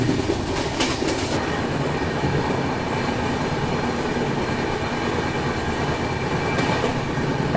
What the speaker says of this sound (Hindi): आखिरकार ट्रेन चल देती है।